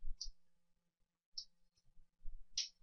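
Three sharp, quiet mouse clicks in the Unreal 4 editor, hitting options such as Two-sided and Apply, spaced apart over a faint low background hum.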